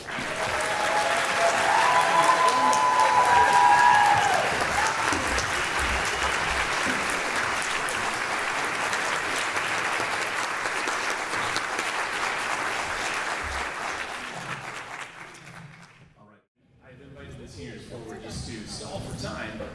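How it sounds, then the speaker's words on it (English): An audience applauds an orchestra ensemble at a high school spring concert of senior solos, sustained dense clapping for about fifteen seconds that fades out, then a brief quiet before softer sound resumes. "How about a round of applause for our ensemble?"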